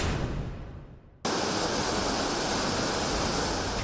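Rushing floodwater and crashing waves during flooding in Kenya, a dense, loud, continuous roar that briefly eases and then surges back at full force, with no voices.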